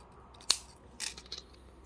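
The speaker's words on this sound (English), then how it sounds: "So I'm going to cut them all." Cutters snipping thin wire for wire-wrap earrings, a few sharp close clicks, one crisp snip followed by a quicker cluster of cuts, quiet with no talk.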